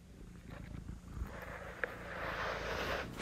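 Pet cats purring while rubbing against a tablet, a close, steady rumbling purr that swells and continues without talk.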